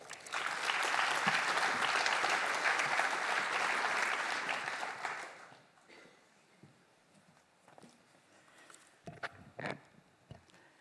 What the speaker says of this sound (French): je souhaite que vous applaudissiez Madame Catherine Després